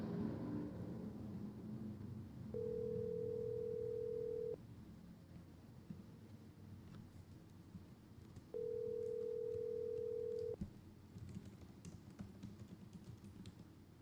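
A phone call rings out to someone's mother: two long, steady ringback tones about two seconds each, separated by a pause, sit over a low background murmur and faint clatter.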